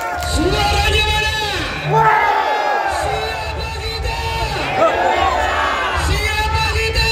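A crowd at the sixth Singotoko singing contest semifinal roars with loud shouts, whoops and cheering voices in waves that swell and dip, close and energetic.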